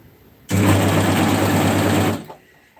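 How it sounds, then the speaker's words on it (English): An overlocker serging the seams of a navy skirt whirs in one steady, loud burst of about two seconds, then stops abruptly, with no talking over it. "So I'm just going to overlock the seams there."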